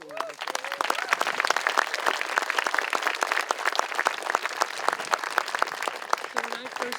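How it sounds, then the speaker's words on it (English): Audience applause at an outdoor Juneteenth heritage walk, a steady wash of many hands clapping that holds for several seconds, with a few voices speaking faintly beneath it. "can we please have a round of applause for Anika and Deborah?"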